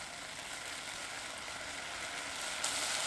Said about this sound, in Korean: 부스러기 털어놓은 멸치도 넣고 볶아주며 졸여줍니다.